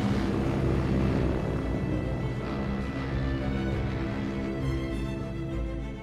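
A droning airship passes overhead in a Battlefield 1 multiplayer match, a steady layered engine hum at moderate level with no talk.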